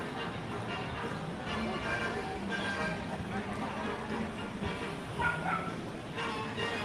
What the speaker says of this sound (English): There's a service animal who does not like the look of Daisy